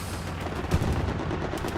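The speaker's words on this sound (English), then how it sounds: "Strafing run goes through." A strafing run in the World War II strategy game Company of Heroes unleashes a dense, sustained roar of aircraft gunfire and rumbling impacts, loud and unbroken for the whole short stretch.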